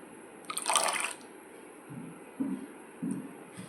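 Liquid poured into rice water while making a herbal shampoo gives a short, bright splashing burst, followed by a few faint, soft drips and trickles in a quiet room.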